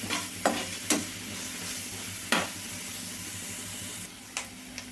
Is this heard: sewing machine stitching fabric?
no